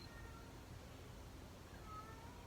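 A cat meows faintly in the distance at a Halloween haunted house attraction, two soft thin calls rising briefly above a low, steady background rumble.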